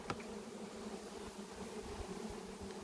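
Honey bees swarm over a brood frame as nucs are made, a steady close buzzing hum filling the whole stretch without pause, with no talk over it.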